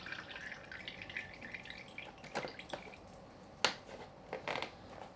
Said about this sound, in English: I'm waiting for it to stop dripping.